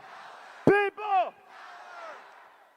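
Large political rally crowd in Los Angeles cheering, a loud burst of shouting and whooping voices that swells and fades into a lingering distant roar.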